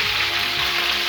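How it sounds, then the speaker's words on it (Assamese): Dried jujube frying in hot oil for a jujube pickle, giving a steady, close sizzle with a faint crackle throughout and no voices. "এনেদৰে তেলত মিহলি হ'বলৈ ধুনীয়াকৈ ভাজিব লাগিব।"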